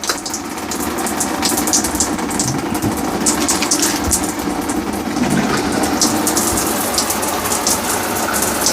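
An RV shower head sprays RV antifreeze at very low water pressure, a steady hiss and patter of liquid running continuously and fairly loud throughout, with no talk over it.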